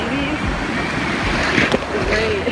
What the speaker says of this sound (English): Honestly guys, these waves are crazy.